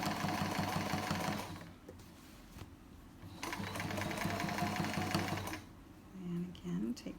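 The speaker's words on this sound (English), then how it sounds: "Make sure you do not sew over your pins." A sewing machine stitches folded fabric for a chair pouch in rapid, steady bursts, stopping and restarting several times, with brief pauses and fabric handling in between.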